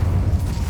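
The Incendio fire spell in Hogwarts Legacy goes off as a short, heavy, low boom with a rumbling burst, loud and close, and no voices over it.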